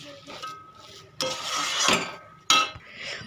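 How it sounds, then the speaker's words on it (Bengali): Khichuri being stirred with garam masala in a pot, giving scraping and clinking bursts from the spoon against the metal that come in two strong strokes, close and fairly loud. "আমি এখন এটার মধ্যে গরম মশলা দিয়ে দেবো, দিয়ে একটু নাড়াচাড়া করে নেব।"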